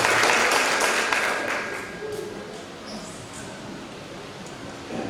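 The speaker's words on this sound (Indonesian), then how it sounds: "Bisa diberikan aplaus sekali lagi untuk" Applause from an audience at a student presidential and vice-presidential candidate debate rings out for the third candidate pair, a dense sustained clapping that starts loud and gradually thins and fades over several seconds.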